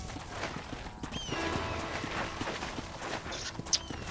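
Horse hooves clip-clopping at a ranch in the video game Red Dead Redemption, a steady walking rhythm of soft, close hoof falls over a busy outdoor ambience, with a brief whinny-like sound near the end.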